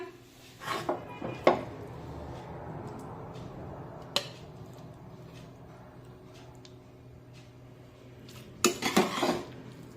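Cooked radish pod vegetable scooped out of a pan, with a few clinks and scrapes of a spoon against metal at the start, a lone tap midway and another burst of scraping at the end, quiet between.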